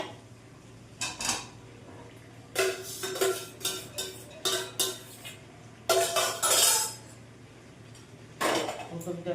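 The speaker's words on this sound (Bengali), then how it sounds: "আমার মা বাসন মাজছে।" Pots, pans and cutlery being scrubbed and washed by hand, a series of irregular clanks and clinks in short bursts over a steady background hum, with some talk nearby.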